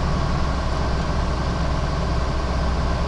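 Dodge 2500 Cummins turbodiesel pickup truck under heavy acceleration, a steady, loud low diesel drone and road rumble filling the whole stretch with no pause.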